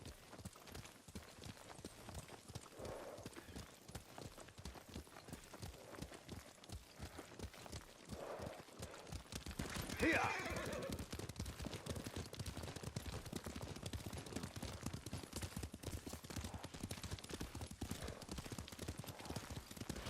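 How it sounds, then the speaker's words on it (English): Steady horse hoofbeats in the game Ghost of Tsushima clip-clop at a trotting rhythm throughout, with a burst of louder clatter midway, then continuing galloping hooves. "Lord Sakai taught me to ride a horse"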